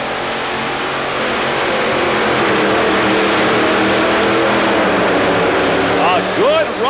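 A modified pulling tractor roars loud and unbroken during an indoor 1990 tractor pull at the Omni in Atlanta, its engine rising in pitch toward the end while an announcer talks over it.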